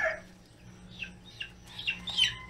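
Short chicken clucks and squawks come in separate bursts, fairly close, over a quiet background hum with no talking.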